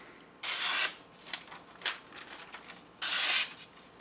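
A knife edge drawn across a Spyderco Double Stuff stone gives two long, close rasping strokes with lighter, shorter scrapes between, no talking.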